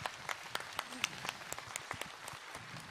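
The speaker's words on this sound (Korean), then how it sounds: "다시 한번 큰 박수 한번 부탁드리겠습니다" An audience at SF9's K-pop comeback showcase applauds with scattered, distinct claps and faint crowd noise, fairly quiet and uneven, with a voice briefly audible underneath.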